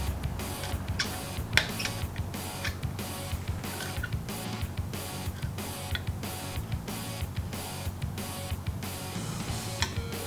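A powered Allen wrench steadily drives 5mm Allen screws into a Carver Surf Rack Max, giving a continuous whirring buzz with repeated ticking clicks throughout, close and fairly quiet.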